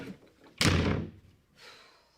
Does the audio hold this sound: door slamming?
yes